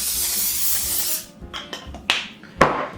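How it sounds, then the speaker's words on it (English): A steady aerosol hiss lasting about a second, followed by a few light taps and clicks nearby. "I'm gonna give this a quick spray"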